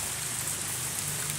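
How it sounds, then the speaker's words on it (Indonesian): Rain falls steadily over a porang garden shaded by corn plants, a dense, even hiss of drops on leaves and surfaces that stays close and constant throughout. "ini cuacanya lagi hujan"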